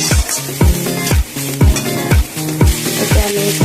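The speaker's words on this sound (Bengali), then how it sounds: "সবজির পরিমাণে নুন দিয়ে দিয়েছি একটু ভাজা করে নিলাম ভাজা প্রায় হয়েই এসেছে" Mixed vegetables for chowmein fry and sizzle loudly in a pan, with rhythmic scraping strokes of a spatula stirring them roughly twice a second, close and alone.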